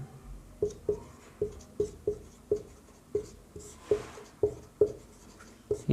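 Notes being written by hand give off a close, steady series of scratchy strokes, roughly two per second, quiet and with no talking.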